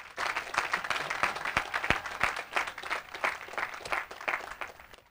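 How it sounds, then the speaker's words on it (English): An audience at a Delaware State University commencement ceremony applauds the governor, giving lively, uneven clapping that swells and dips, with individual sharp claps standing out near the front before it tapers at the end. "let's give our governor a nice, warm Delaware State round of applause"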